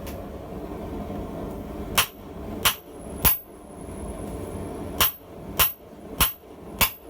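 Hammer blows hand forging a solid steel candle cup, seven sharp metallic strikes ringing out at irregular intervals, loud and close over a low background hum.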